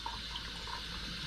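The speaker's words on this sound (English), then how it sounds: "you want to just rinse your turkey really well." Faint, steady stream of tap water running into a sink while a raw turkey is rinsed, a soft continuous splash with no voices.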